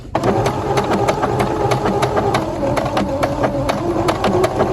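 A sewing machine runs a stretch stitch at a steady pace, its needle punching a fast, regular rhythmic clatter over a continuous motor hum, loud and close with no voices.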